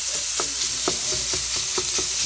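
Eggs and sausage sizzle steadily in a pan for breakfast tacos, a close, even frying hiss with a series of light rhythmic taps from stirring.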